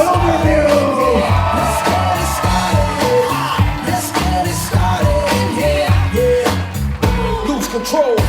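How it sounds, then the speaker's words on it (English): Wedding reception crowd noise, loud and sustained, with guests cheering and whooping for the groom's parents over music at a dense, continuous level. "let's get that applause going for parents of the groom, Steve and Deb Wilderview."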